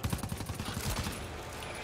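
In the GTFO video game, a quick run of gunshots cracks out in rapid bursts over the first second, then fades into quieter background noise.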